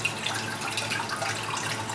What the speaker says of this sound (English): So we're going to start by filling a hot pot